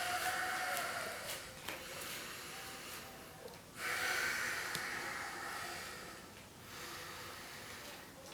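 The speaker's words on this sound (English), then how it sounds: "We're breathing." Heavy, audible breaths during a floor warmup for an at-home quarantine workout, a series of sharp snorting inhales and exhales spaced a second or so apart, close and fairly quiet against a faint background.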